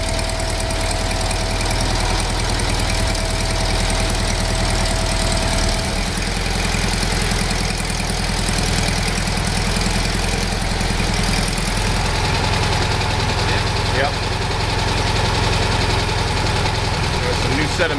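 A 1954 VW Beetle engine idles steadily, a continuous low, even rumble with a faint knocking quality that holds close and loud throughout, with no speech over it.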